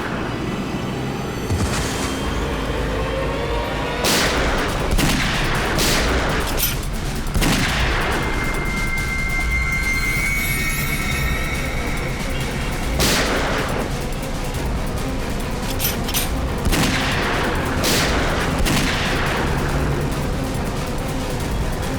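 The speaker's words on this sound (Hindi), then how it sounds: "पटाखे ले चलो साथ" Repeated loud firecracker bangs and crackles burst at irregular intervals over a steady outdoor rumble, some close and sharp, others more distant.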